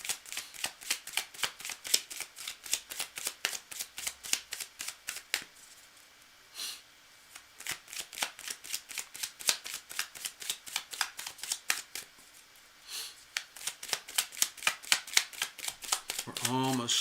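Tarot cards are shuffled in quick riffled bursts of crisp, rapid flicks, close and fairly quiet, with a short pause midway and a soft thump at the end.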